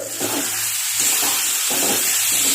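Spices are being sautéed and stirred in a hot pan without onion or garlic, giving a steady close sizzle and hiss with soft scraping strokes of stirring throughout, and no talking.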